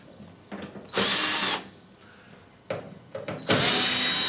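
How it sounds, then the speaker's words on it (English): A power drill undoes three screws at the back of a Beko DRCS76W tumble dryer lid, giving short close bursts of whirring with quiet gaps between them and no talk. "First thing to do is to remove the lid. There's 3 screws to undo at the back."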